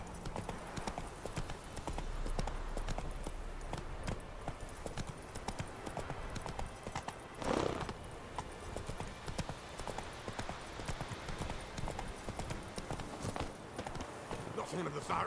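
Roach the horse gallops in The Witcher 3, hooves clip-clopping in a fast steady rhythm for the whole stretch, close and moderately loud, with a brief louder burst midway.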